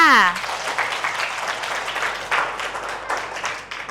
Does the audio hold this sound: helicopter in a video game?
no